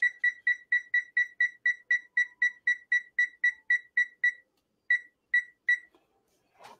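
An oven timer beeps in a fast, even series of about fifteen bright, clear tones, then pauses and gives four more, fairly close, with no talk.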